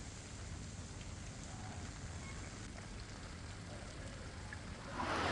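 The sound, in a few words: heavy rain falling in Gujarat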